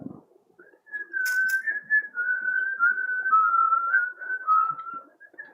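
A person whistles the Kill Bill tune, a single clear wavering melody held for several seconds, close up with no talking over it.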